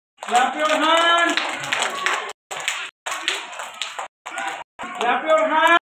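Children clap hands in short, quick bursts broken by brief gaps, mixed with nearby voices talking and calling out.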